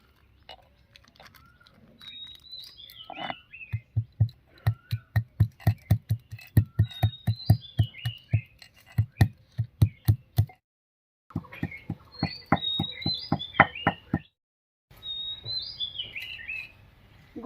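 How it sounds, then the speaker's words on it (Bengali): Black peppercorns are pounded in a steady run of heavy, close thuds while making a homemade joint-pain oil, with short pauses between bursts and bird chirps sounding in the background. "গোলমরিচটা একটু থেতো করে নিচ্ছি"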